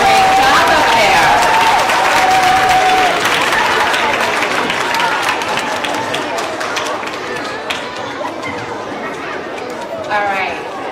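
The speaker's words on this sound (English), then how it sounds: "let's give them one more round of applause" Audience applause at an elementary school winter concert, a sustained loud wash of clapping from a large crowd with chatter throughout that slowly thins out.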